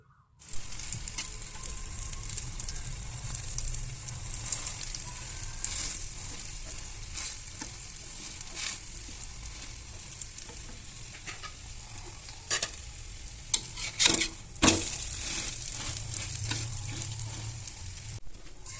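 Two slices of bread frying in a small wok-style pan, with a steady close sizzle throughout and occasional scraping and clatter of a utensil turning them, with no talk.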